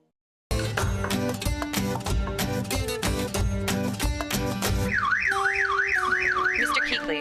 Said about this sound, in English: We're getting a smoke alarm.